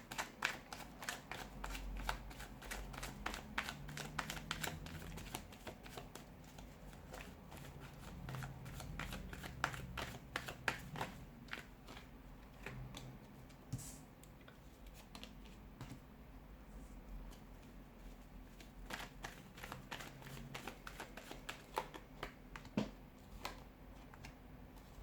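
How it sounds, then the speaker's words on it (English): Rapid, continuous riffling and flapping of tarot cards being shuffled close by, with a quiet background and no talking. "let's give the cards a shuffle"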